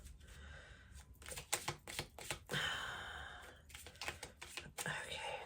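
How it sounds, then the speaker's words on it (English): Oracle cards being freshly shuffled by hand, a run of soft riffling bursts and papery flutters with brief pauses between them, faint breathing sighs in between and no talk. "We're going to shuffle."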